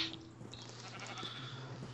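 Sheep bleating in a video game, a brief, faint, distant bleat under a steady background hum.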